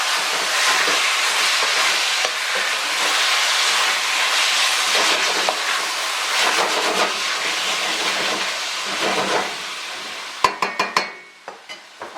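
Seasoned pork stirred into a hot pot for a breadfruit and coconut milk stew, a steady loud sizzle and hiss with scraping stir sounds, then a few sharp clanks near the end as it quiets.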